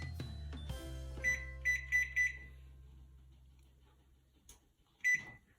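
A kitchen timer is set for baking bread, giving a few short bright beeps as buttons are pressed, close and clear in a quiet room after a thump.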